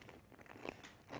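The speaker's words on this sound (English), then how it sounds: "sorry to all who can hear me chew" A fig jam and pickle dish is bitten and chewed up close, giving quiet, crisp crunches and wet mastication clicks over a little more than a second, with no talk.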